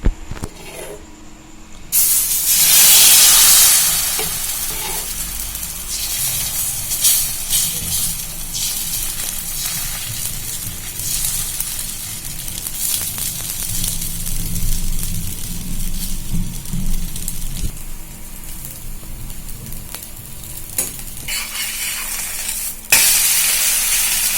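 Whole wheat dosa batter poured onto a hot pan, a loud burst of hissing sizzle that settles into a steady, continuous frying hiss with occasional crackles and a sharp spatter near the end.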